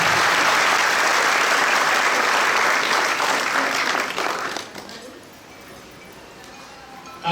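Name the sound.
audience applause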